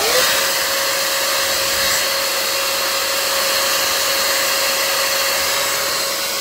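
A vacuum cleaner motor running on 24 volts drones continuously with a steady high-pitched whine, close and loud, with no change in pitch or level throughout.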